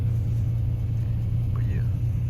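Infiniti G35 car with a deep, steady engine rumble close by, a loud low drone throughout with no clear revving.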